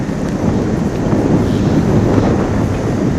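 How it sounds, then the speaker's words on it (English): Strong wind buffets the microphone outdoors at a lawn bowls green in Moama, Australia, a steady, loud rush of low roaring noise, unbroken and without any voices. "windy conditions."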